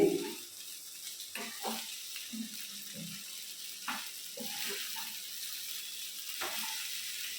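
Vegetable poha sizzles softly in a pan, a steady low frying hiss with scattered clinks and stirring scrapes, fairly quiet and close, with no voices.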